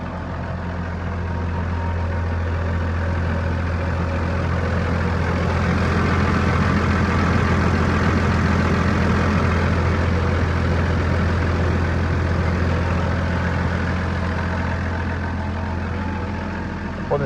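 A Case Puma 140 tractor with a six-cylinder engine idles steadily close by, a continuous low diesel rumble with a strong even hum that holds unchanged throughout.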